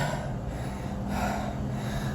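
Loud, labored panting after a set of burpees, with steady heavy breaths drawn in and pushed out close to the mic, rising and falling in rhythm with no talking.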